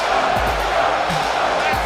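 Arena crowd in the WWE 2K20 wrestling game chanting in rhythmic bursts, a loud dense roar of many voices repeating a short chant, with a commentator talking over it.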